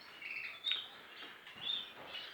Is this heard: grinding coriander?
no